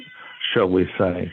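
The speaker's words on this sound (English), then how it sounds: "A cat meows on the hour." A cat clock meows on the hour in the background, giving two drawn-out electronic meows in quick succession while a person speaks over them.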